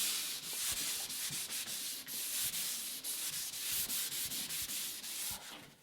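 A surface is sanded with a sanding tool working from the bottom up, giving a steady, loud abrasive hiss with rhythmic dips as the strokes repeat, close up and with no talking.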